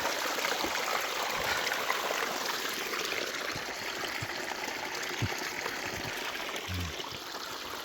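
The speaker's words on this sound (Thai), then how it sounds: "นี่ครับลำห้วย น้ำตกมี น้ำนิดหน่อย" A forest stream with a small waterfall carrying only a little water gives a continuous gentle trickle and rushing splash, steady and close, with a few faint knocks and no speech.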